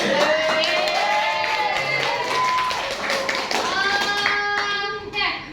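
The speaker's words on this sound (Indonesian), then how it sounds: "Oke, tepuk tangan." Classroom applause for students after a history teaching-practice presentation at a Jakarta university, a small group clapping briskly and unevenly, overlapped by chatter and children's voices throughout.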